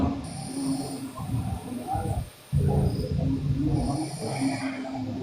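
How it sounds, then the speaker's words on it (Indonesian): A person snores through a sound system during a lecture on lineage, with rough rasping breaths repeating in a slow rhythm and a brief pause midway, fairly close, alongside a low murmur. "siapa yang ngorok itu teman-teman?"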